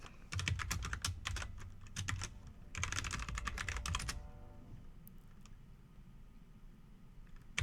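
Rapid typing on a computer keyboard, two dense bursts of close, crisp key clicks separated by a brief pause, then quiet room tone.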